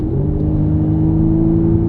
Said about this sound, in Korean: 차주분께서 가변 스포츠 배기를 옵션으로 넣으셨는데 이 바로 느껴져요. 이런 매력적인 배기음